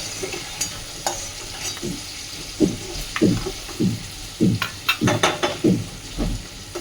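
Potatoes fry in a pan with a steady sizzle, while a spatula scrapes and stirs in a run of distinct strokes that grow louder and quicker toward the end. The cooking is close and clear, with no talk.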